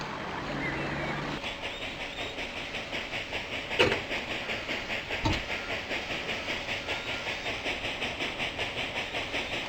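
A train in Railroad Tycoon II rumbles steadily with a rhythmic clickety-clack of wheels on rails, broadband and continuous, with a couple of sharper clanks partway through.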